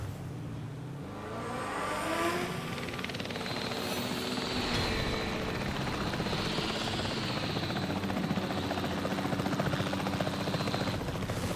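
Helicopter in Jurassic World Evolution 3 whirring steadily with a thick rotor drone and engine whine, holding loud and close for the whole stretch after a slightly quieter opening, with no talk over it.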